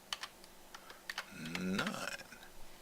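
Fingers tap quickly on a computer keyboard, a close run of sharp, irregular key clicks, with a brief low voice-like murmur in the middle.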